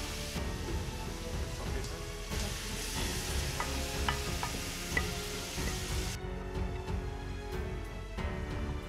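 Sautéed onions sizzle in a deglazed pan for a Chaliapin steak rice bowl, a steady hiss with light stirring scrapes and occasional ticks that carries on alone, moderately close and fairly quiet.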